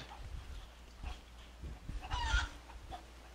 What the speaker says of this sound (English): just heard a chicken through the headset